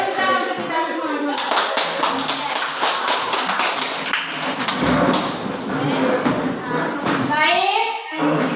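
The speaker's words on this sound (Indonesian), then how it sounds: "tepuk tangan untuk kita semua" A classroom of students applauding together, a dense, sustained burst of clapping that runs loud and steady for several seconds before tapering off.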